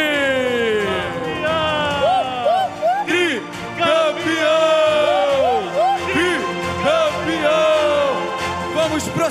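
A lively crowd at an award ceremony during a church retreat cheers and whoops in bursts, with shrill whistle-like calls rising and falling over steady background chatter.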